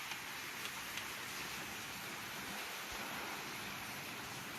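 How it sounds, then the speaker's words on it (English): Steady rain falls during a tropical storm at night, a dense, even hiss with a wind-like roar that holds throughout, no voices heard. "You see the rain, right?"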